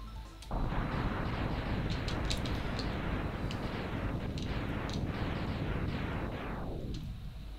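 Sustained barrage of missile blasts in Mega Man X during the Boomer Kuwanger stage, a dense, continuous rumble of overlapping explosions with scattered sharp pops on top, loud and unbroken for several seconds before tailing off.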